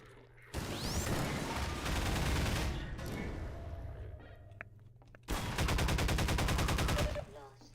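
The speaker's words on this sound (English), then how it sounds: "Can you not headshot me with a damn shotgun, like, right after I come out of cover?" Shotgun fire and other gunfire in Half-Life 2 comes in two loud, dense bursts of rapid shots a few seconds apart, with a quieter stretch between them.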